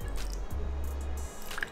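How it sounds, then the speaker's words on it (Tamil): A single teaspoon of water is poured onto a quarter cup of sugar in a pan, giving a brief, close, wet splash and trickle with nothing else heard. "இப்போ இதில் ஒரே ஒரு டீஸ்பூன் தண்ணி சேர்த்துக்கிறேன்."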